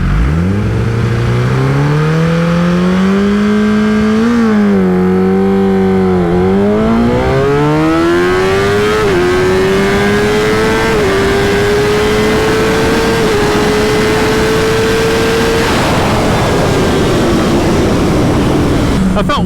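A Kawasaki ZX10 sport motorcycle launches down a drag strip. The engine screams loudly and climbs through several rising gear-change sweeps, holds a high steady whine, then fades as it pulls away.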